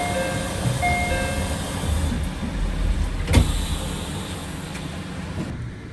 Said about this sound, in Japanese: 発車時刻となり列車の扉が閉まります